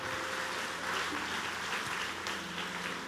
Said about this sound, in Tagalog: Malakas na palakpak kay Jesus.